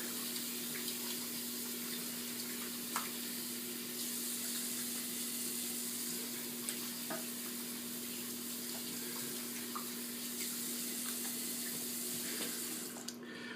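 Cold tap water running steadily into a bathroom sink during a shave, a continuous hissing splash at moderate level with faint clicks and a low hum beneath, no talking.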